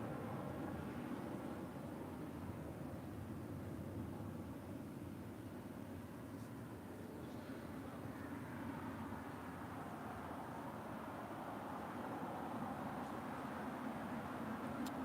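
A Boeing 747-400 converted freighter departing LAX, a steady distant low roar that holds at an even level throughout with no voices over it.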